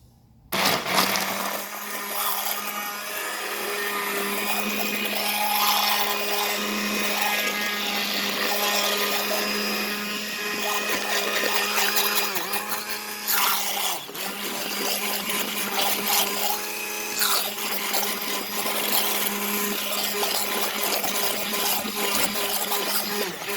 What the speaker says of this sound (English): I find the immersion blender works the best